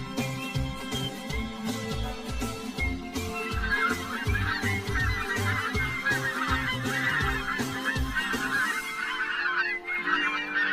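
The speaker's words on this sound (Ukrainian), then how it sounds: "Дикі гуси." A flock of wild geese honks repeatedly and loudly, overlapping calls in a busy, continuous chorus outdoors.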